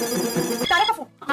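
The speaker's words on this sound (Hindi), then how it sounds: "मैं अंजलि को फोन लगा के पूछता हूँ" A phone ringtone sounds as a call is placed, a short electronic ring pattern heard close with a voice under it.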